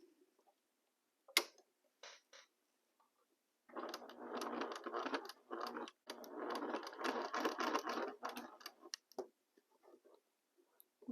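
A sewing machine stitches sail fabric in two long bursts of steady mechanical whirring, separated by a short pause. A few sharp clicks and handling knocks come before and after the runs.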